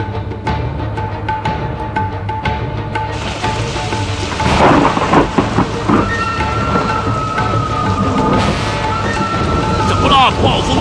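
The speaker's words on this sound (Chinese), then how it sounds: "狂风暴雨雷电来呀" A cartoon storm effect of howling wind, steady rain and rolling thunder, loud and continuous, swelling midway with heavier rumbling bursts.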